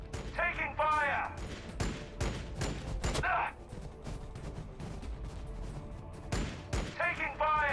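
Rapid bursts of gunfire and blasts in the strategy video game Warhammer 40k Battlesector, dense and loud, with game characters' voices calling out between volleys.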